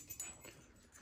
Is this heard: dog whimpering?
yes